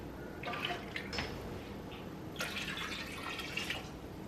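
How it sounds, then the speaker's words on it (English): Four cups of water pour into a cooking pot in a kitchen, a soft, steady trickling and splashing in two short stretches, faint and alone with no talk. "I added 4 cups of water"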